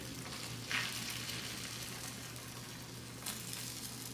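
Egg mixture sizzles quietly in an omelette pan, a soft continuous frying hiss with a couple of brief louder crackles and no talking.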